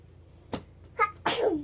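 A single sharp sneeze bursts out near the end after a couple of faint breathy sounds, close and fairly quiet overall.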